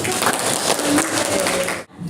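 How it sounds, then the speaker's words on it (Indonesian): Short burst of applause from a classroom audience during a lesson, clapping loudly and thickly before cutting off abruptly near the end. "Tepuk tangan dong."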